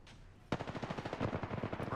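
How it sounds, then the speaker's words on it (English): Sudden burst of rapid automatic gunfire from enemies in a shooter video game, a dense rattling stream of shots that starts abruptly after a quiet moment and keeps going loud and close. "The enemies are shooting at me"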